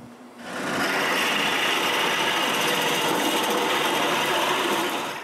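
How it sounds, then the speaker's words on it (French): Drill boring a hole in a piece of plywood, a steady, bright whirring grind that starts abruptly and holds evenly for several seconds, close and alone. "je suis prêt à percer le trou pour la tige qui retiendra la roue en place"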